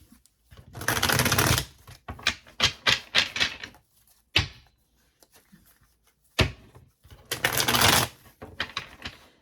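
Tarot cards shuffled by hand in brisk bursts of riffling and flicking, with two long dense runs and shorter clustered snaps between them, close and fairly quiet, with a few pauses of near silence.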